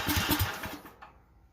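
A Duromax 440cc engine on full choke coughs and turns over in a short, rough burst of loud mechanical chatter that quickly fades out.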